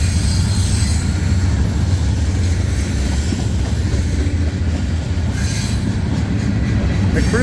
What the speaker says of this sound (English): I don't know if it's the last train I'm going to see or not.